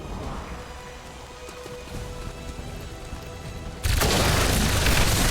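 Gunfire from the video game XCOM 2 bursts in after a stretch of low rumbling ambience, becoming a loud, dense, sustained barrage that continues to the end.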